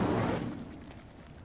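An Incendio fire spell cast in Hogwarts Legacy, a short low whooshing burst that swells at once and then fades quickly over about a second, heard alone.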